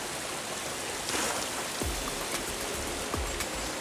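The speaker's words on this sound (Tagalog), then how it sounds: "yun yung agos ng tubig" A stream at the foot of Bulusan flowing in a steady broadband wash of water, close and continuous, with a few brief splashes and drips popping out over the rush.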